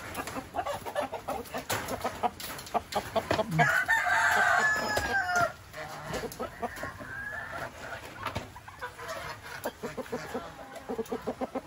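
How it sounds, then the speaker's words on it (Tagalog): A rooster crows with a long rising call on a farm, surrounded by scattered clucking and rustling from nearby chickens. "Itong manok."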